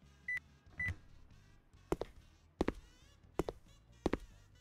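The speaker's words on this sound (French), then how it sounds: "Molo, t'entends les bip-bip ou pas?" Two short electronic beeps in the video game Who's Your Daddy, followed by a series of sharp, evenly spaced clicks or thunks, fairly quiet with a hushed background.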